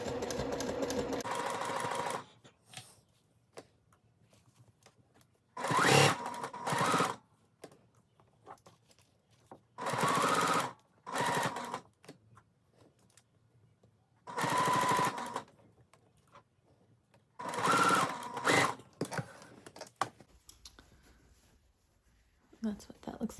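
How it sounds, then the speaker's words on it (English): Sewing machine top stitching seersucker fabric at a longer stitch length: five separate bursts of rapid mechanical stitching, each a few seconds long, with quiet handling and faint murmurs in the gaps. "I'm going to top stitch along here"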